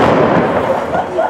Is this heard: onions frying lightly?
no